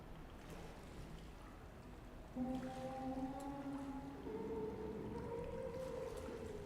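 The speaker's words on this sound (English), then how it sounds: "The water makes it harder to hear." Underwater ambience in a video game gives a muffled, murky wash, with low wavering tones rising in over it partway through. It is faint throughout, with no speech.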